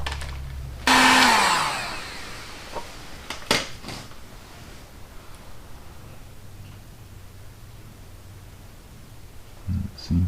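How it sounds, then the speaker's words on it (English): A heat gun used to shrink wiring while installing tail lights on a Viking trunk, starting with a loud steady blowing whoosh that tapers off, followed by light handling clatter and a brief blast near the end. "Heat gun."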